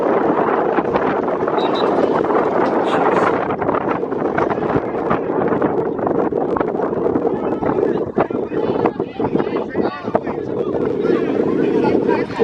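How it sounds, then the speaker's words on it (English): A strong gust of wind buffets the microphone at an outdoor semi-pro football game. It makes a loud, continuous rumbling roar through most of the stretch, with muffled voices underneath. "Big gust of wind just blew in."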